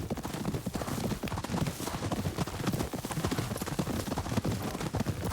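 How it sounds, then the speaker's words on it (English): Horse hooves clip-clopping in the video game Ghost of Yotei, a steady, close, continuous trotting rhythm of many quick hoof strikes with no talking. "Your horse is fond of you."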